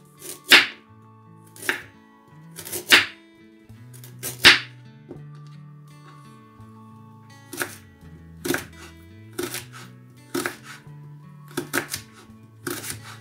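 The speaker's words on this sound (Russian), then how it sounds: "Морковь я нарезаю соломкой." A knife cutting carrot into julienne strips on a board, heard as irregular sharp chopping taps, some in quick clusters and others spaced apart, close and fairly loud over soft background music.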